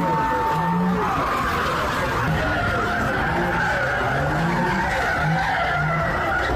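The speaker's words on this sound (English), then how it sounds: "you can very clearly tell that this is from a takeover just from the tire screeching in the background of the video" Tires screeching and skidding at a street car takeover, a loud continuous squeal with wavering pitch over engine noise and crowd murmur, going on unbroken for several seconds.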